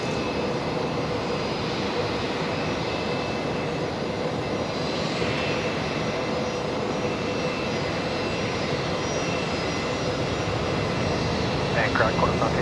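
An airliner arriving on runway 01 right at Brisbane Airport at night, its jet engines giving a loud, steady roar that holds for the whole stretch, with faint voices now and then.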